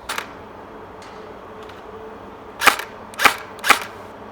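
An LCT AKS74 airsoft AEG firing heavy 0.25g Devil BBs outdoors at range: a few sharp single shots, the last three evenly spaced and loudest, over quiet background.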